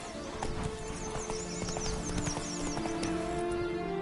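Roach the horse trots in The Witcher 3 Blood and Wine, hooves clip-clopping in a steady rhythm with a whinny, mixed with in-game ambience and faint bird calls.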